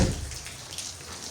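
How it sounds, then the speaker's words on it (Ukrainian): Steady rain falling outdoors in the countryside, a dense even patter of drops close by with a slightly louder splash at the start, no voices over it. "А там, як ви бачите, дощ."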